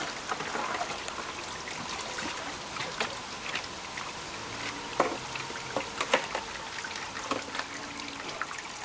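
Water running steadily through a river sluice box set up for trapping gold, a continuous broadband rush with scattered splashes and trickles, fairly close and alone without talk.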